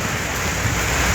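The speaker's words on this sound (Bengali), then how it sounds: "প্রথম বৃষ্টি সিলেটে বড় ধরনের বৃষ্টি" Heavy rain pours down steadily in Sylhet during a sudden storm, a dense, loud, continuous roar with no pauses.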